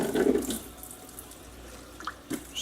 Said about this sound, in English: throw a little water in